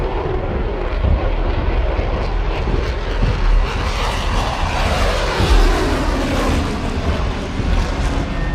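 A Rafale fighter jet flies overhead with a broad, steady roar that swells and shifts in pitch as it passes, loud and continuous with no voices.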